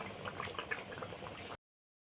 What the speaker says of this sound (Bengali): এবার একটু ফুটুক, তারপরে নামিয়ে দেবো